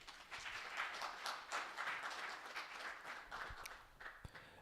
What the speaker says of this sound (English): can you please give a round of applause for the government of